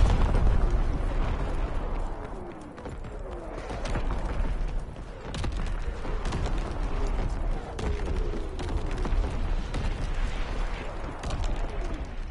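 Enemy artillery shells exploding in Call of Duty WW2 multiplayer, a dense barrage of heavy booms and rumbling blasts rolling one after another at close to mid range, with gunfire and faint battlefield voices mixed in.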